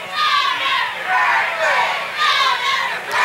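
A packed high school football crowd at Kearsley shouts and cheers in loud, surging waves, rising and falling several times in close succession.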